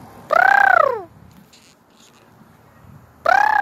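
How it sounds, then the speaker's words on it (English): A baby raccoon on a roof gives two loud, close, wavering high-pitched calls separated by a quiet pause, each a drawn-out descending cry. "Can you hear that? That's a baby raccoon."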